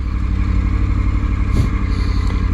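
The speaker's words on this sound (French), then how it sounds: "Ah, cette petite mélodie du 3 cylindres là. En son d'origine, hein." A Triumph Tiger 900 three-cylinder motorcycle engine runs with a stock exhaust, a steady, loud, close throbbing idle with a brief rev swelling up midway, and no voices.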